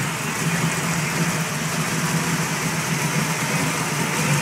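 A 1922 hot rod engine with a gear drive runs at a steady idle, a close, continuous rumble with a faint whine on top and no break throughout.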